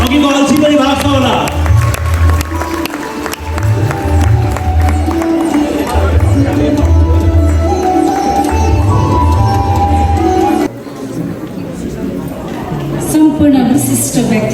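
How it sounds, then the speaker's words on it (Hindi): An audience claps loudly and steadily at an international excellence award ceremony, with crowd noise and cheering swelling throughout while a voice speaks over a public address system. "आनन्ददेखिको बलले ताली पिटाउँ हजुर"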